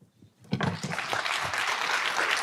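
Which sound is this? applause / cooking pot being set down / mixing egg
applause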